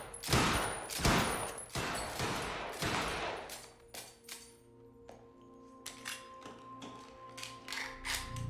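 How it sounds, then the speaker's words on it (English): Video game gunfire crackles in heavy bursts at first, then thins into scattered distant shots and metallic clinks, fairly faint throughout. "I gotta check out that gunfire before I go anywhere else."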